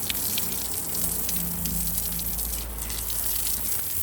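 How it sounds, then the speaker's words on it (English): A garden hose gushes and sprays steadily, rinsing and watering down freshly laid garden stepping stones; the continuous splashing hiss stays close and unbroken throughout. "Watering everything down, rinsing off all the stones."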